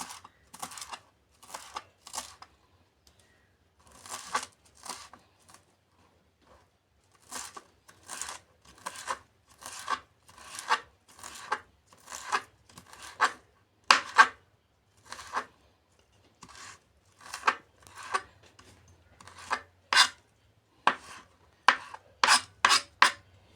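Coriander leaves finely chopped with a knife on a board: quick, rhythmic chopping strokes come in steady bursts separated by short pauses, close and crisp, with no talking.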